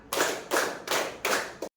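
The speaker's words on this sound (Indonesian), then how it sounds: "Tepuk tangan 2, tepuk tangan 3, tepuk tangan 4." A group claps hands together in a set rhythm, four short close bursts of brisk clapping separated by brief pauses, with no talking.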